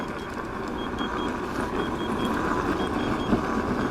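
A Kingsong S22 electric unicycle's speed alarm beeps in short, evenly spaced pulses over steady riding and wind noise.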